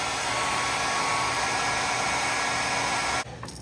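A cheap hair dryer heat-setting paint on a miniature, blowing steadily with a loud, constant whooshing hum, then cutting off abruptly near the end.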